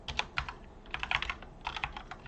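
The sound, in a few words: typing on a computer keyboard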